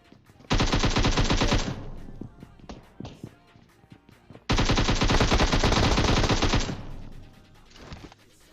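Automatic gunfire in the mobile battle royale game PUBG Mobile, two long rapid bursts of loud, close shots with a few scattered single shots between them.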